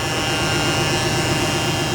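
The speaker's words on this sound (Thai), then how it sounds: "อันนี้คือเสียงของปั๊มที่ดังขึ้น" An aftermarket fuel pump runs loudly through a small fuel line, giving a steady, close, unbroken whirring drone with a constant hum and no pauses.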